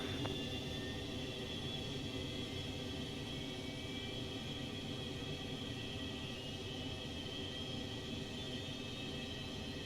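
Boeing 727-200 jet engines idling on a runway in the X-Plane 11 flight simulator, a steady droning rumble with a high whine that stays even and constant throughout, no voices over it.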